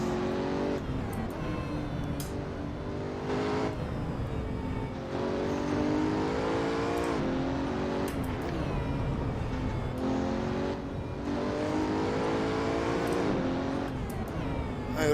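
A Pagani Huayra BC engine in the Assetto Corsa racing game on the Nordschleife, a loud, steady engine roar rising and falling through gear changes across the whole stretch, with brief talk over it.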